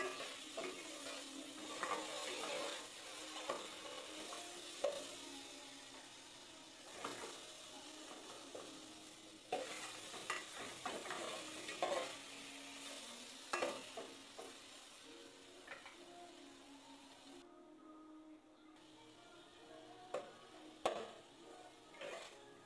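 Crushed tomatoes cook in a pot for milkfish sinigang, giving a steady soft sizzle and simmer with repeated stirring and scraping knocks of a spoon against the pot, faint and close, with no voices.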